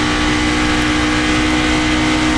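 Kevin Harvick's NASCAR race car engine roars loud and close as he gets back on the throttle, a dense sustained engine drone with no talk over it.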